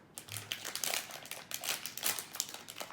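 Plastic bag of Pikmi Pops cards crinkles and crackles up close as it is handled, a dense run of irregular rustling bursts that rise and fall without any talk.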